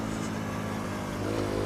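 A motorcycle engine hums steadily at mid pitch, then its throttle is blipped and the revs rise briefly near the end, heard close with no talk.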